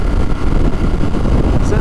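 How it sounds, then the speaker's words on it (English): Steady, loud wind roar buffets the microphone while a 2018 Ducati SuperSport motorcycle cruises at highway speed, a dense continuous rush with engine and road noise blended underneath. "There is obviously some wind happening, just the nature of being on a bike like this on the highway."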